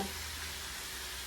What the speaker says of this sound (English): just get a sear on them to lock in all the juices